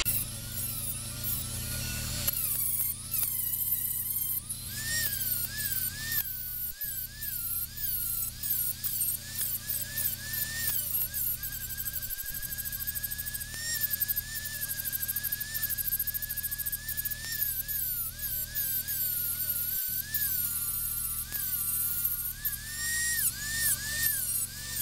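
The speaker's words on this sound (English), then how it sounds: "I'm going to take off as much excess weld as I can with just a cutoff wheel" A cutoff wheel grinds excess weld off a Page-Lewis Model D rifle part, a continuous close high-pitched whine with a wavering pitch as the wheel bites and eases, running steadily without talking.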